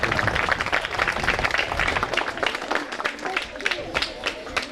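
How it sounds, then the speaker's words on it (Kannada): An audience at a school talent program claps in a dense, continuous burst of applause with crowd murmur and voices mixed in, fairly loud and close throughout. "ಎಲ್ಲರಿಗೂ ಅವರ ಚಪ್ಪಾಳೆ ಮುಖಾಂತರ ಅವರಿಗೆ ಅಭಿನಂದನೆಗಳನ್ನು ಸಲ್ಲಿಸಬೇಕಂತ"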